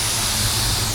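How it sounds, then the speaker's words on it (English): A spray gun applies white pearl automotive paint, giving a steady loud broadband hiss that runs without a break, close up. "When you're spraying the white pearl, look at the texture, look at how you're spraying"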